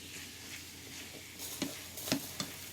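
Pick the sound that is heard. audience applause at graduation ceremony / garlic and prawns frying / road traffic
garlic and prawns frying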